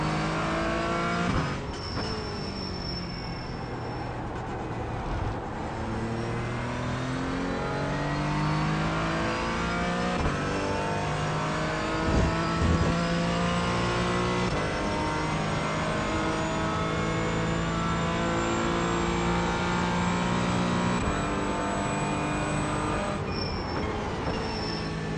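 Porsche GT4 race car engine at Portland in a racing video game, a steady, loud harmonic drone rising and falling through gear changes as the car laps, with occasional brief shifts and no talk.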